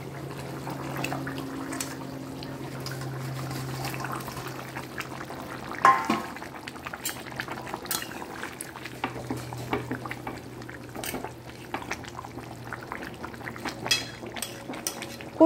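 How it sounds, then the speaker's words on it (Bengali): Fish curry gravy with katla fish and taro potatoes bubbling in a pot: a continuous soft boil with scattered pops and liquid burbles, close by, and a low hum underneath. "এই যে ঝোলটা তো অলরেডি ফুটে গেছে"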